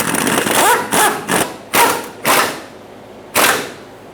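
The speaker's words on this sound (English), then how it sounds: "Snug the bolts down." A ratchet or impact tool snugs the fuel tank strap bolts under a 2014-2018 Chevrolet Silverado 1500, giving five or six sharp, loud bursts close by, spaced irregularly over a few seconds.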